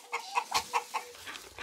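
Farmyard turkeys gobble and cluck in short, separate bursts, a handful of calls spread at moderate distance with quiet gaps between them.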